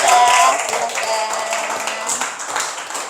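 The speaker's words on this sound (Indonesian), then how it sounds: "Tepuk tangan untuk Clara" Classroom clapping for a student named Clara, a broad steady patter of many hands lasting a few seconds with a faint voice underneath.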